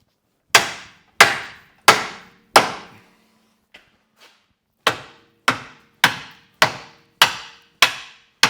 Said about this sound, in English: I'm using a plastic shot peen filled dead blow hammer. This is aluminum.